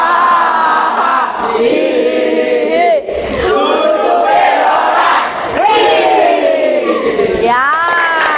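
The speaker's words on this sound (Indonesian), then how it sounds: "Ayo kita tepuk semangat." A standing group shouts a rhythmic spirit chant with clapping during an icebreaker at a teacher-training session, loud voices rising and sliding in unison in bursts of shouted syllables, with short pauses between phrases.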